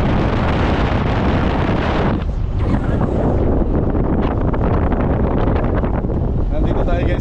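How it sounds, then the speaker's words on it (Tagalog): Strong wind roars across a boat, buffeting the microphone with a loud, continuous rush for the whole stretch, and a voice is faintly present beneath it. "Lakas ang hangin."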